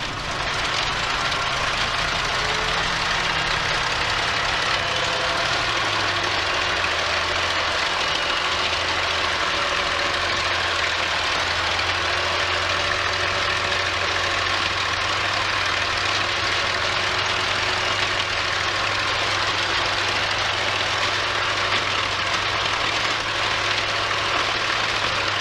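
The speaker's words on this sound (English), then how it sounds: "so I'll just run the engine up, check everything's working." Spitfire ML407 aircraft engine runs up on the ground, a steady deep drone that stays loud and continuous, its pitch shifting slightly early on, with no voices over it.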